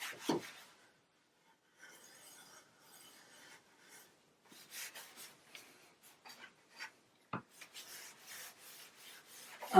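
Wax being rubbed liberally onto a solid object to polish it, giving soft, intermittent rasping strokes that start and stop, with quiet pauses between and a couple of sharper knocks.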